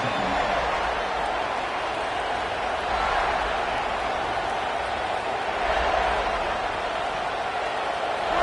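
A football stadium crowd roars in a steady, dense wash of noise that holds for the whole stretch, loud and continuous with slight swells.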